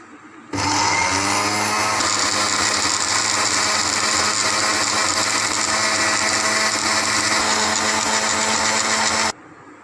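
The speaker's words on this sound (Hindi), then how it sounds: "ब्लेंडर को चलाएंगे।" An electric blender whirs through green mint chutney with water and salt, a loud continuous motor whine with a grinding edge that starts abruptly, holds steady for about nine seconds, then cuts off.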